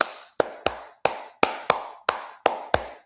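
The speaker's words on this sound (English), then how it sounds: "I'm clapping my hands." A person claps their hands nearby, nine crisp, loud claps landing in loose pairs over about three seconds, each clap trailing off briefly in a small room, with no talking.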